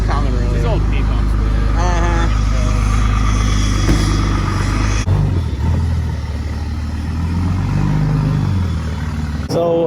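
A common rail diesel truck engine runs steadily just after starting, a low continuous rumble throughout, with people talking over it.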